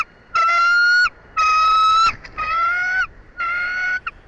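A bald eagle at a live nest cam gives four loud, close, drawn-out piping calls in a steady series, each about half a second to a second long with short gaps between.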